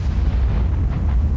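Tank gun struck by a hit in World of Tanks, a dense, loud boom and rumbling blast that fills the moment with heavy low-end roar and crackling noise, with no speech over it.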